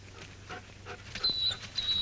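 A hurt, limping dog in the Yukon pants faintly with soft breathy rhythms and thin whimpers. It sounds close but quiet over a low background hum, with no talking.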